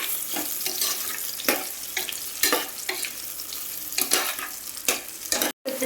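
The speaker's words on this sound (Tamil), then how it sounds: "வெங்காயம் பச்சை மிளகாய்க்கு அடுத்து பீட்ரூட் போட்டு வதக்கிடுவோம்." Beetroot sautéed with onion and green chilli for biryani gives a continuous close sizzle, broken by repeated scraping stirs of the spoon in the pan, with no talking.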